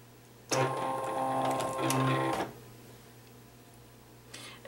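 A cutting machine for a WRMK Foil Quill loads a card, giving about two seconds of whirring, clicking motor and roller sound that then stops, close and fairly quiet, with a faint hum behind.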